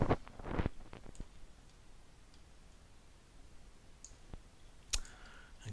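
A computer mouse clicks several times, crisp close clicks in a small cluster at first, then a couple of isolated clicks a few seconds later in a quiet room.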